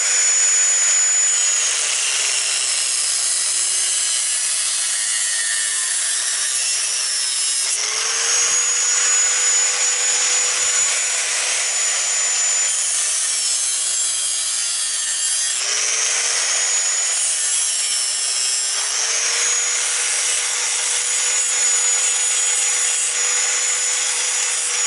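A saw cuts through a plastic sink drain pipe with a harsh, steady rasping in long strokes, the pitch rising and falling as the blade works, loud and close with no talking.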